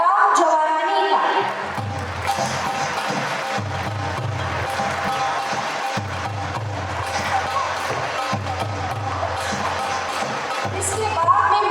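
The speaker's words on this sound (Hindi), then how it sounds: "आइए आप सब तालियों की गड़गड़ाहट के साथ स्वागत करते हैं डॉक्टर राम जवाहरानी का।" An audience at an opening ceremony applauds steadily to welcome a guest onto the stage, a continuous wash of clapping layered over music.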